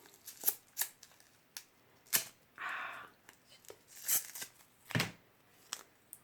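Scissors cut a handmade Christmas card in quiet, crisp snips and rustles. The snips are spaced irregularly, with a short papery scrape in the middle.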